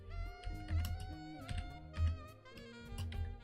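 Rapid clicking of a computer keyboard while someone codes in Visual Studio, keystrokes coming in quick uneven bursts over a steady tonal hum in the background.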